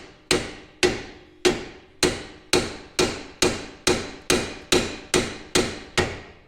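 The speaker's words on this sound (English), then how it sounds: "I'll plug this fork in, let's try to hit it to see if it comes apart." Twelve evenly spaced metal-on-metal hammer blows drive a fork tool into a 1968 VW Beetle front-end joint to split it, each strike sharp and ringing, close and loud with no talk.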